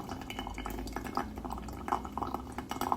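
Water pours from a Yixing teapot while tea is brewed, a close, continuous liquid trickle with small splashy bubbling that stays steady for several seconds.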